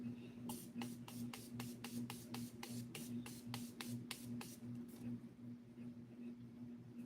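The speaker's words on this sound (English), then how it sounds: "I'm using my Morphe spray." Rapid bursts of Morphe makeup setting spray misting, around a dozen quick pumps in a steady rhythm, close by, over a constant low electrical hum.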